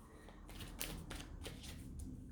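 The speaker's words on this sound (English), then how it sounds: "just giving it a final shuffle to the cards" Tarot cards are riffled and shuffled in several quick bursts, soft and close, with no voices.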